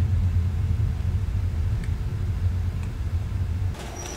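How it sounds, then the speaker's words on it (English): A storm rumbles in the survival game Stranded Deep, a dense, steady low roar of wind and weather that runs loud and continuous throughout, easing slightly near the end. "As soon as this storm is done..."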